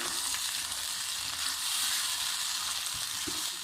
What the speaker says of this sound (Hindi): इसके साथ इसे हम कुछ देर भून लेंगे।